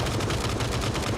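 Rapid automatic gunfire in the video game PUBG, a dense rattling burst of evenly spaced shots running continuously and loud through the whole moment.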